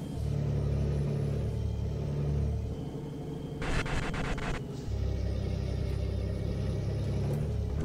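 A Mercedes-Benz Atego 2425 box delivery truck in Euro Truck Simulator 2 drones with a steady engine hum. A short hissing burst cuts in midway before the droning resumes, with no talk.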